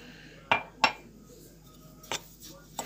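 White flour and semolina stirred together in a bowl, heard as a few sharp separate clinks of a utensil against the bowl over quiet background, two close together and then two more spaced out.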